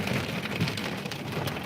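Rain falls in a steady, dense hiss, loud and close, spreading evenly across the whole short stretch with no voices.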